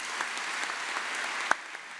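A church congregation at a Sunday worship service applauds in a steady, moderately close wash of clapping, with one sharper clap standing out near the end.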